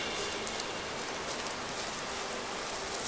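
Steady rain in the video game Gothic 2 hisses and patters continuously at night, a soft even wash of falling drops with no voices.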